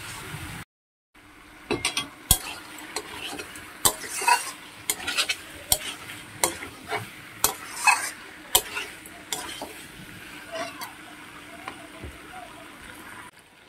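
Chicken pieces stir-fried in oil in a pan, with a spatula clacking and scraping the pan in a steady run of sharp strokes over a low sizzle, close by.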